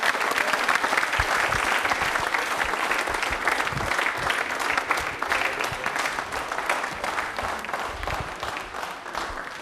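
A studio audience at a televised quiz programme bursts into sustained, dense applause for a contestant, loud and even for nearly ten seconds before easing slightly at the end.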